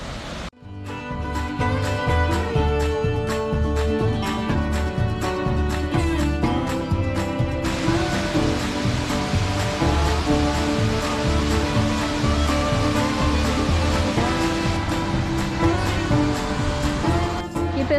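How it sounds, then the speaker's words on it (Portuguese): A shallow, clear-water waterfall on a forest trail in Sengés, Paraná, Brazil, its steady rushing flow loud and continuous throughout, with a voice speaking over the water. "Muito bonita essa cachoeira"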